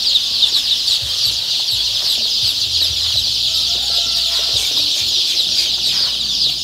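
Three-day-old chicks in a brooder cheep in a constant dense chorus of high peeping, loud and close, with soft rustling and occasional low clucks underneath.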